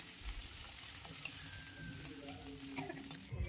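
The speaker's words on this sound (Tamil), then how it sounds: "இப்போ பத்து சின்ன வெங்காயம் சேர்த்து அதையும் நல்லா வதக்கிக்கலாம்." Ten small shallots and curry leaves sautéing in hot oil give a steady, moderately faint sizzle with occasional stirring scrapes throughout, with no one speaking.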